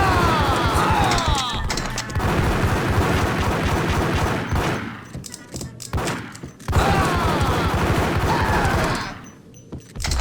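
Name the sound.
gunfire in the video game Max Payne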